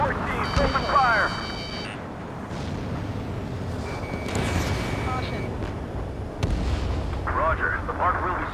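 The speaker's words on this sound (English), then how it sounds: "Now, support team, open fire." Booming support-team artillery fire in the Ace Combat 7 flight game on PC, heavy blasts rolling under a constant engine roar with radio-style voices talking over it and electronic beeps during the mission.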